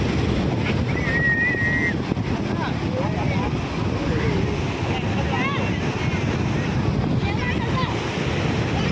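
Sea waves surge and break in a steady, loud roar with gusting wind on the microphone, voices and laughter from a picnic group with children coming through over the surf.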